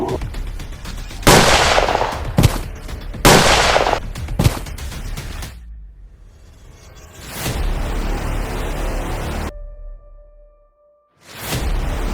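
Several sharp, loud gunshots ring out in quick succession, each with a brief echoing tail, followed by a lull and another burst near the end.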